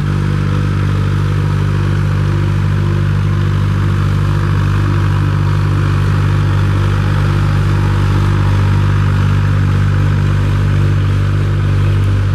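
A Massey Ferguson 5245 tractor pulls an 8.8 harrow, its diesel engine droning steadily and evenly at close range with a low, constant rumble and light mechanical clatter, no voices present.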